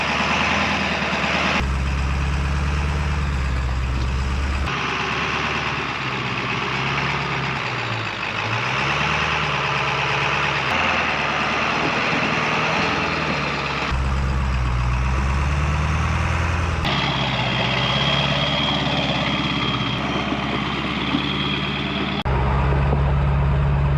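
A Ford Excursion with a 7.3 Power Stroke diesel climbs a rocky hill, its deep engine drone loud and steady throughout, with low rumbling surges as it works over the terrain.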